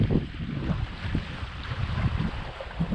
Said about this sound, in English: Sailing merrily along at 4-5 knots